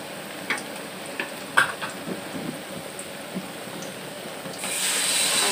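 Onions frying in a pan for a Bangladeshi pangas fish curry, a soft steady sizzle with a few spoon scrapes and clicks, then a louder hiss swelling near the end.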